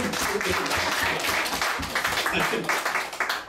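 Congregation clapping during a Sunday sermon in church, dense and continuous hand claps with rhythmic accents, fairly loud throughout.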